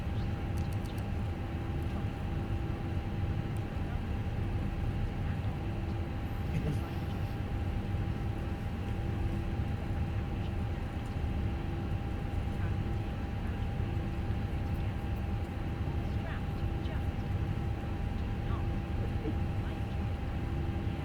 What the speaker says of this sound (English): Okay, we have a good engine start on both sides.